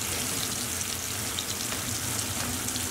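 Persian pan kebab (kabab tabei) meat, pressed flat, frying in a pan with a steady, close, dense sizzle that holds evenly throughout with no voices.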